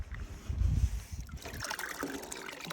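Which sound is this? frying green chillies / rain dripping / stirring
rain dripping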